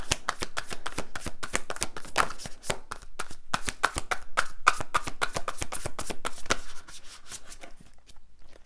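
A slippery tarot card deck shuffled by hand produces rapid, continuous riffling and slapping of cards, close and fairly loud, thinning out and stopping near the end.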